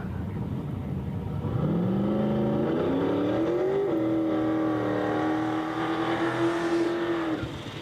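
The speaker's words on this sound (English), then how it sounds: "Looks like Kyle found the smoke button on that burnout" Race car burnout at a street drag event: the engine holds a loud, steady high-rpm drone with a rising then sustained tone for several seconds, tires spinning, before cutting off.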